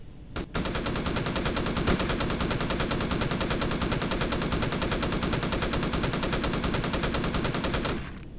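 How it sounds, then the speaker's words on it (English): A Gatling gun fires in the video game Empyrion, a rapid, unbroken stream of mechanical shots sustained for about seven seconds before cutting off abruptly. "Mental note, Gatling guns suck."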